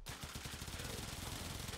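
Rapid automatic fire from the Aksomati pistol in the video game Warframe, a continuous close, loud stream of evenly spaced shots lasting the whole moment with no pauses.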